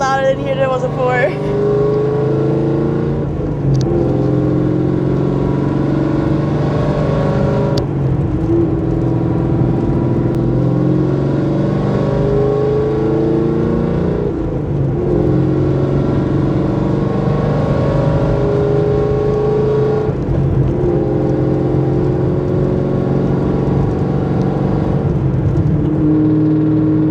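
A 6th gen Camaro's engine drones steadily inside the cabin after a rear seat delete, a loud constant hum with shifting tones as the car drives, with a person's voice heard at moments.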